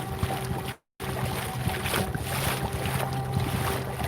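Electric motor on a kayak running at quarter throttle on a lake, a steady low hum under constant water and wind noise, with a brief dropout near the start and no talking.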